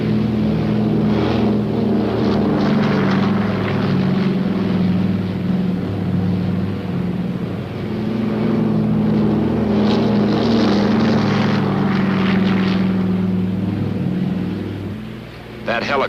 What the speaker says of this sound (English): And the planes are launched to support the Marines at the front.